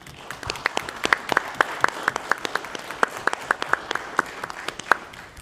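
A few people at a school district board meeting clap for the school resource officers, producing sparse, distinct, evenly spaced claps at moderate volume, close and without voices.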